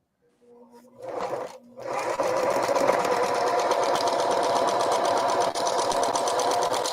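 A sewing machine starts up after a couple of brief bursts, then runs steadily at high speed with a fast, even mechanical whir, close by.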